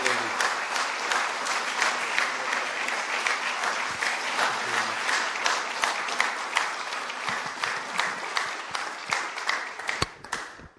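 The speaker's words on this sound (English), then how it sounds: "So please give me his applause." An audience claps in sustained applause at the Mendel Lectures as the Mendel Medal is awarded to Aaron Ciechanover. The clapping is dense and steady with sharper individual claps near the end, then it cuts off.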